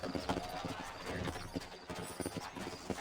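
Horses in the Red Dead Redemption video game, set in a frontier town, with steady clip-clopping hooves and a whinny amid busy game ambience, moderately loud, with faint talk in the background.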